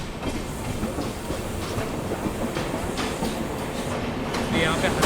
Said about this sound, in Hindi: यहाँ पे हमारी ट्रेन एंटर कर चुकी है रायपुर जंक्शन रेलवे स्टेशन पे।